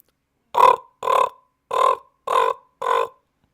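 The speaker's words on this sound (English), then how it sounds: "That was a common raven" Five deep, hoarse croaking calls from a raven, evenly spaced about half a second apart, loud and close with no other sound.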